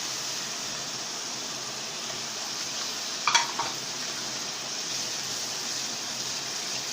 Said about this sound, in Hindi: मसाला भूनता जा रहा है और देखें तेल छोड़ता जा रहा है।